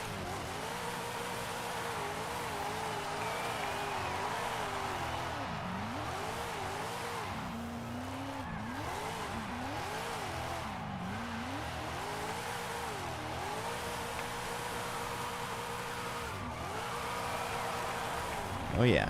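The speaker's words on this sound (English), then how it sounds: "let's first see how this thing drifts" A car drifting in Forza Horizon 5, played with a wheel and pedals: a continuous engine drone that rises and falls with revs, with tire squeal layered through the slide, loud and steady for the whole stretch.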